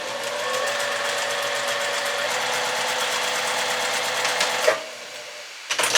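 Steady, close whir of a sewing machine stitching fabric half square triangles along seam tape, with fast rhythmic needle clatter for over four seconds before it halts and fabric is shifted.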